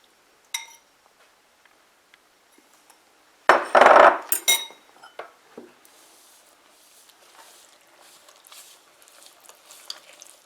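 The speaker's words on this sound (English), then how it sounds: "now I'm going to mix my wet ingredients into my dry ingredients" Wet ingredients being stirred into dry ingredients for pecan pie muffins, heard as a loud burst of scraping and clinking in a bowl, followed by quieter intermittent scrapes and taps close by.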